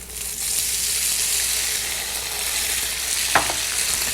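Tofu chunks pan frying with ginger in hot oil give off a loud, steady sizzle throughout, with one brief scrape or clink of stirring near the end and no voices.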